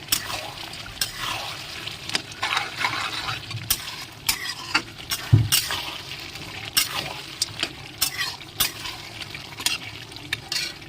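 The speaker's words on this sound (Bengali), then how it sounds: "এখন আগলা করে নেব আগলা করে একটু নাড়িয়ে" Village-style duck meat curry being stirred in a pot, with repeated scraping and clinking of a utensil against the metal, soft sizzling underneath, and one sharper knock partway through.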